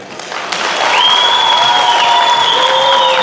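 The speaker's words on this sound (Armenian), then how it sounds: "սկսում է Հարսիկի կողմը թող ծափեր տա" Wedding guests on the bride's side clap, building from scattered claps into steady, full applause, while a bright whistling tone glides and holds above the crowd noise.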